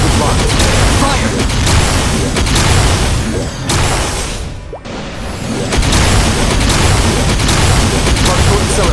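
Rapid bursts of energy-weapon fire from a Xenon skill attack in MapleStory's Chaos Von Bon boss fight boom and crash almost continuously, briefly dipping mid-clip before resuming, under loud game effects.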